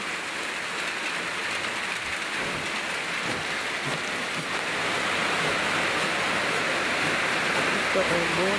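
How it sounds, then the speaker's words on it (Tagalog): Heavy rain pours down steadily in a dense, loud wash that swells slightly louder midway through, with faint voices beneath the downpour. "Ito, buhos ng ulan."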